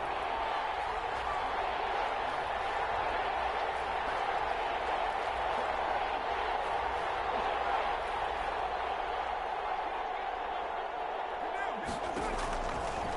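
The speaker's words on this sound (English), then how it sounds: "the crowd getting into it as we come up on a big 3rd down." Crowd noise in the Madden 21 football video game swells steadily through a tense third-down moment, a dense continuous roar of cheering mixed under a commentator's voice.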